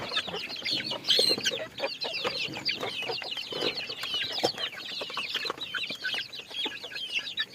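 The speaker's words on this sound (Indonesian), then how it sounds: "kasih makan ayamnya yang banyak" Many chickens cluck and chatter together at close range, a busy overlapping flock with occasional louder squawks, no talking.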